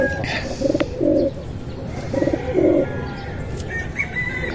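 A young racing pigeon coos in a loft, two paired bursts of low throaty cooing, close and clear over steady background noise and faint chirps.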